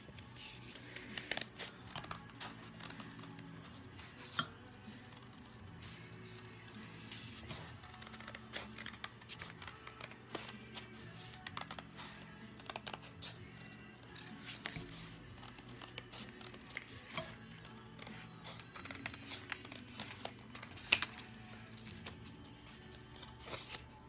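Scissors snip through folded paper sheets to cut out paper rose petals, giving faint, close, irregular cutting and rustling sounds with small crinkles.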